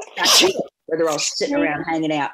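A woman sneezes sharply once, close and loud, at the start of a chat in a home setting, and talk follows right after.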